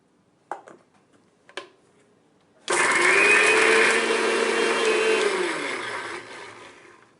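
A kitchen mixer grinder runs steadily, finely grinding pepper, garlic, cumin, shallots, curry leaves and a little fenugreek for a bottle gourd broth. A few light clicks come first, then a loud continuous whir that slowly winds down.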